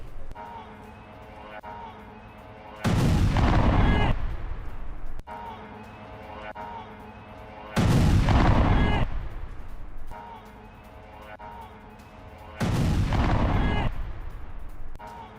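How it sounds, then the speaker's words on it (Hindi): Explosions from a drone attack on a US military base in Manama, Bahrain: three loud, broadband blasts spaced several seconds apart, each a sudden roaring burst that rumbles and decays over a low, steady background hum. "बहरीन के मनामा में अमेरिकी बेस में विस्फोट, ड्रोन हमले से दहला अमेरिकी सैन्य बेस।"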